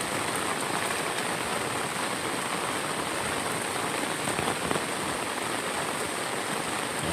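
Steady, dense typhoon rain falling without wind over an area near rice paddies, a continuous even hiss with no gusts or breaks throughout.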